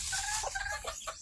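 Chickens clucking at feeding time, several short, rising clucks and squawks from nearby birds, fairly quiet, with a low hum underneath and no talking.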